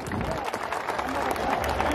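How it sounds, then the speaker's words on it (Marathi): A crowd applauds Deputy Chief Minister Ajit Pawar at a public gathering, a dense, steady patter of clapping throughout with some voices mixed in. "आणि एकदा दादांसाठी सर्वांनी टाळ्या वाजवा"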